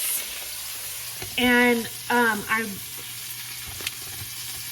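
Salmon sizzles steadily in a pan, a constant crackling hiss, while a voice talks briefly over it.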